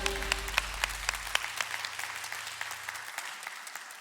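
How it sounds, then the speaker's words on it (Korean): A church Sunday school teachers' gathering gives a round of applause. The clapping is close and dense at first, with a low hum underneath, then thins to scattered claps that fade over a few seconds. "주님께 영광의 박수 올려드립시다"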